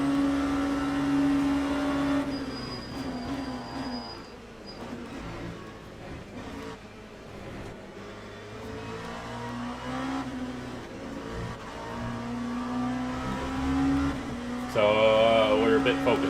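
An LMP2 prototype race car engine at Spa in the Le Mans Ultimate sim hums and revs continuously, shifting pitch through gear changes and rising near the end, while someone talks over it.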